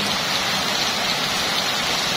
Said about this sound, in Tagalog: Ang lakas ng agos ng baha.